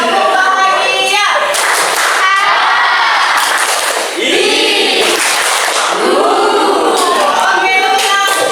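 Students in a class perform the happy clap routine, loud rhythmic clapping mixed with group chanting and shouted voices throughout.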